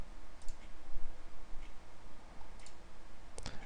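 A few faint, sparse clicks of a computer mouse button, heard over a steady background hiss in a quiet room.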